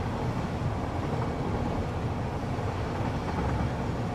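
Train rolling past in the factory-building video game Satisfactory, a dense continuous rumble and roar that holds steady and fairly loud throughout with no speech.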